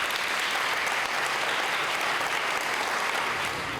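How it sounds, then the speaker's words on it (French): A congregation in a chapel gives dense, sustained applause, a loud, even roar of clapping with no voices on top. "Vos applaudissements, s'il vous plaît."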